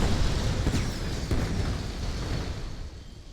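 Fire and earth spells hit in Spellbreak with a broad, rumbling blast that fades slowly over a few seconds and sounds close and heavy, with no one talking.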